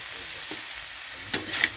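Flat beans and potatoes fry in a pan with a steady low sizzle, broken by a couple of sharper scraping stirs near the end.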